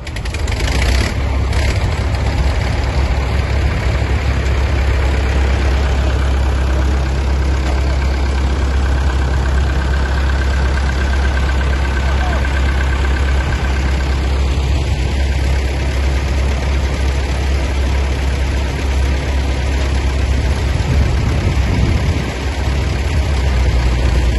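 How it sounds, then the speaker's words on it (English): Old cars, tractors and military vehicles idle together on a road run, a loud, steady low rumble of several heavy engines running continuously for the whole stretch, with no voices. "We had a cheeky little road run, just to show some old cars, some tractors, and our military vehicles too, out on the road"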